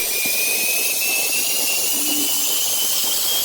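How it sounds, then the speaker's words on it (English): A loud, steady high whistle with a roaring hiss beneath it, sounding like a jet engine spooling up; a car seat extractor's whistle, sped up. "The video speeds up here a little so my whistle sounds like a plane taking off"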